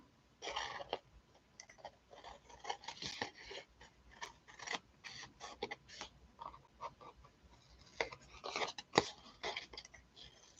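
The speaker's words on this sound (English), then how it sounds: "Let's just tear it or cut it." Paper being torn or cut for a journal tag gives quiet, close, irregular crisp rips and snips in short bursts across the stretch, with no talking.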